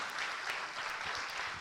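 An audience at a poetry gathering celebrating Independence Day claps steadily. The applause is dense and continuous, holding at an even level from start to finish.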